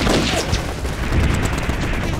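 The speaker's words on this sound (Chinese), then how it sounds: "你们听，这会儿伪军的枪声乱着呢" Scattered gunfire from an enemy unit in a war film battle scene, heard as a dense, rumbling volley of shots and crashes, fairly loud and continuous over a short stretch.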